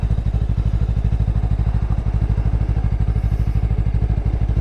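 A Lifan KPT 400 motorcycle engine idles close by in a loud, even, rapid thumping rhythm that holds steady, with no one talking.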